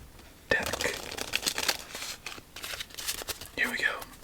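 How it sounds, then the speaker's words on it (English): Playing cards riffled and bridged in a deck shuffle, up close and soft, with a crisp burst of crinkly, papery rustling, a lull, then another flurry near the end. "let's give this deck 2 more nice shuffles"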